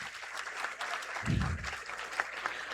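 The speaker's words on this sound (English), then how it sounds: "everybody who applied deserves a round of applause." Pupils and staff at a school Independence Day assembly give a round of applause, a continuous clatter of clapping with a brief low thump partway through.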